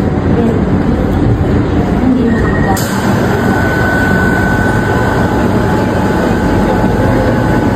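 A metro train in a station in Italy, near the Colosseo stop, rumbles loudly and steadily, with a rising electric whine and a sharp shift partway through, and voices talking faintly underneath.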